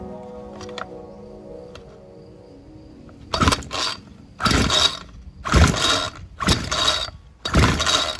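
A Homelite EZ Reach zip starter part is worked into place. After a quiet start come five loud, rhythmic bursts of ratcheting mechanical clicks, close to the listener, with no talking.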